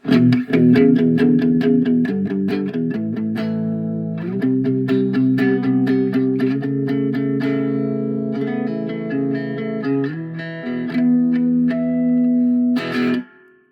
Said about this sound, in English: I'm gonna turn up some reverb now, turn up some delay, some distortion